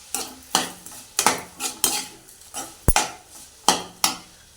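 Onion, tomato and spices for a dried-fish thokku are stirred in a pan with a spoon, giving repeated scraping clatters and soft frying sizzle at a steady pace, near and without talk.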